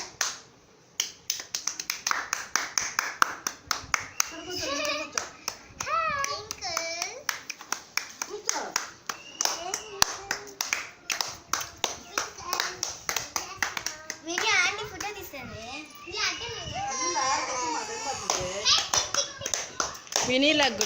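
Children clap at home in a steady run of sharp, close hand claps, mixed with finger-snap-like taps, while children keep chattering over them throughout.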